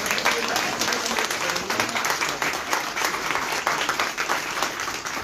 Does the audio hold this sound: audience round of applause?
yes